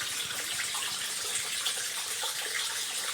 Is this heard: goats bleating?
no